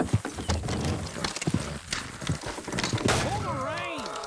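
Horses in Red Dead Redemption 2 gallop and pull, their rhythmic hoofbeats thudding close by before a whinny-like cry rises near the end.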